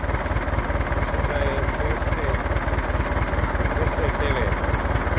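A 1969 Massey Ferguson tractor engine idles with a steady low chugging pulse, close and even throughout, while voices talk over it.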